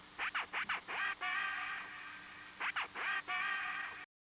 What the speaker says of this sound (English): So it kind of sounds like a vinyl record stopping and starting.